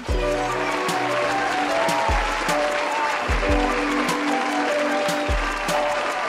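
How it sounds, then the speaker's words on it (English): Cued applause for a horror podcast rolls as a steady sheet of clapping, layered over a repeating deep bass pulse and sustained musical tones. "Cue those applause for me."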